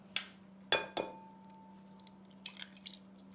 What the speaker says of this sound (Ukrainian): Вбиваємо яйця в ємність.